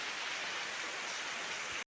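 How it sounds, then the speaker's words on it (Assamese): Steady rain falling outdoors onto banana leaves held overhead, a dense, even hiss that stays loud and constant for the whole stretch before cutting off abruptly. "বৰষুণ পৰি আছে"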